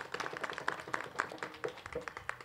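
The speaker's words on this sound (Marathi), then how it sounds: "आपण त्यांच्यासाठी एकदा टाळ्या वाजवून धन्यवाद" A small audience at a kirtan gathering clapping, a quick run of close, light, uneven claps that patter for a couple of seconds before thinning out.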